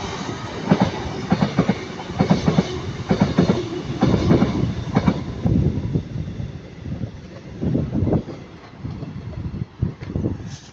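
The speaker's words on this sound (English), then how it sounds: "passer by now is going to be 221126 for cross country, going from Manchester Piccadilly to Bournemouth." A CrossCountry class 221 passenger train, unit 221126, passes close by at Heaton Norris, with rhythmic clickety-clack from wheel sets over rail joints, a rushing body of sound and some wind buffeting on the microphone.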